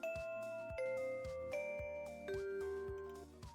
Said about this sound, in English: The bell sounds, signaling the start of class.